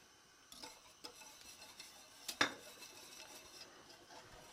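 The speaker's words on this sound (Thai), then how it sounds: "ใส่น้ำตาลลงไปแล้วก็คนต่อจนกว่ามันจะห่อนอีกรอบหนึ่ง" A utensil stirs sugar into water heating in a pot, soft scraping and faint clinks against the metal coming in a few sparse strokes, close and quiet, with one slightly sharper knock midway.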